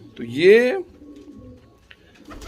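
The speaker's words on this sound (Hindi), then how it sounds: "उड़ान के कबूतरों को आप एक बार देख लो।" A single soft, throaty coo from a flying pigeon up close, followed by quiet background and a brief spoken word in Hindi.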